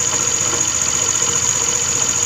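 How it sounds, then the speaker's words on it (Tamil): A TVS Streak scooter engine with a worn bearing idles steadily and loudly up close, giving a continuous knocking rattle under a high, sustained whine, with no talking. "ஸோ இந்த மாதிரி நாய்ஸ் வந்து க்ரியேட் ஆச்சுன்னா ஸோ கண்டிப்பாக பேரிங் தான் போயிடுச்சு"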